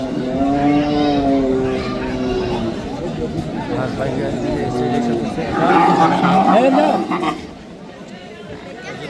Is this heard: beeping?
no